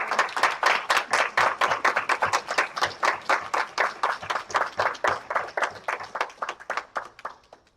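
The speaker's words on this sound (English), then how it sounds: "I ask you to please applaud your loved ones." Audience at a Hunter Business School LPN pinning and graduation ceremony in Medford applauds, a steady close burst of many hands clapping that tapers off toward the end.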